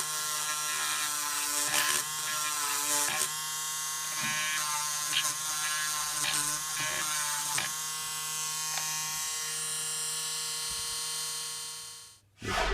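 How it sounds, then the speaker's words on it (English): A small electric sander buzzes steadily while sanding model ship parts for the HMS Granado, a close, continuous whirring with slight pitch shifts and small clicks, then stopping abruptly near the end. "This box-on sander never ceases to surprise me."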